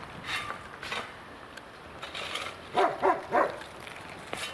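A few sharp barks from a dog at a short distance, three close together near the end, over faint background noise and clicking.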